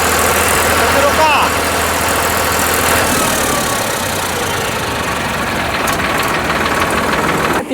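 Side-shift tractor with power steering idling nearby, a steady loud mechanical engine drone with rough knocking texture running throughout, mixed with voices talking over it.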